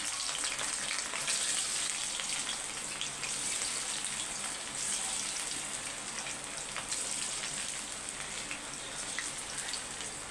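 Country chicken frying in a shallow layer of oil gives a steady, dense sizzle with crackling pops, close and even throughout with no voices.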